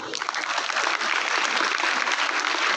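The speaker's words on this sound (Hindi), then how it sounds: "आप जरूर तालियां बजाएं" Dense, steady applause fills a hall as an audience claps for an institution's director and president at a ceremony. The sound stays even and moderately loud throughout, with faint speech underneath.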